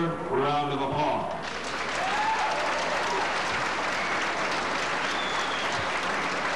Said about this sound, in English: please join me in giving these outstanding young people a well-deserved round of applause